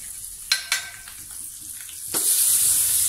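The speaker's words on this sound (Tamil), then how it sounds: "இது தாளிப்பு." Curry leaves and spices tempering in hot oil for a Tamil home dish, a steady close sizzle with two sharp crackling bursts early on, then a louder, fuller spatter swelling near the end.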